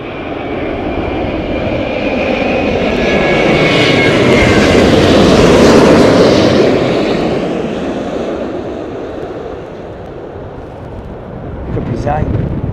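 Jet aircraft engines spool up and roar loudly at Heathrow Airport in gusty storm wind, a broad sustained rumble that swells and recedes with heavy wind buffeting throughout.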